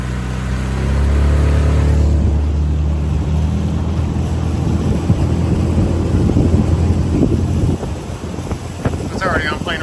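Mercury 25hp Gen 4 outboard motor at full throttle pushing a 1648 Jon boat, a loud steady drone that rises in pitch as it climbs toward plane, with heavy wind buffeting throughout.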